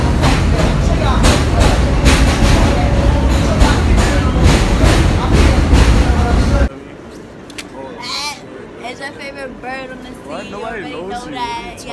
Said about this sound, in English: Now all we gotta do is wait for this train